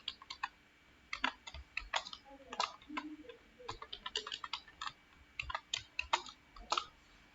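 Keystrokes on a computer keyboard as an administrator password is entered during a Proxmox VE setup in VMware Workstation: irregular bursts of close, crisp clicks and taps, played alone with no talk.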